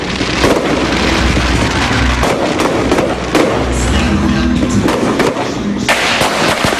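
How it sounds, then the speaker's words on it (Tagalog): Crowd-pleasing New Year fireworks bursting over a mall in Lipa, Batangas, with a dense continuous crackle and frequent sharp booms, loud and sustained, a brief heavier burst near the end. "ang magarbong fireworks display"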